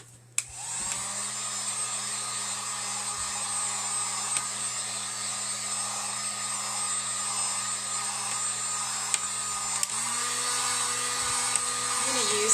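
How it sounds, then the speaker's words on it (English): A heat gun blows steadily on a freshly painted board, a continuous loud whirring hiss that holds for the full stretch, with a faint click near the start and the pitch shifting slightly toward the end. "Now I'm going to take the heat gun to this to speed up the drying a little bit"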